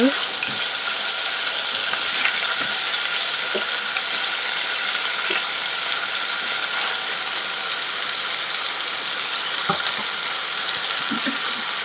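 Chicken adobo sizzles steadily in a pan with soy sauce and vinegar, a close, continuous crackling fry with faint clicks and a few small knocks.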